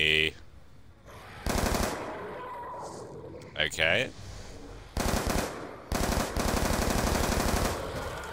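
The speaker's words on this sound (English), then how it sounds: "Because the MTAR has ridiculous recoil, we could not hit a single shot on this." MTAR assault rifle fire in Black Ops 2 Zombies comes in several loud, sustained automatic bursts separated by pauses, with a short spoken word and other game sounds in between.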